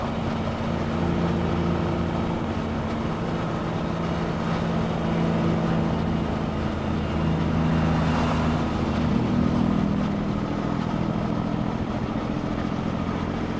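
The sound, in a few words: truck engine note changing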